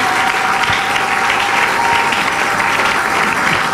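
A church congregation at a French-language Sunday worship service applauds in steady, dense, loud clapping that runs unbroken throughout with no talking.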